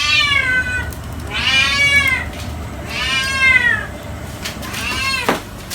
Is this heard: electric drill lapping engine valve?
no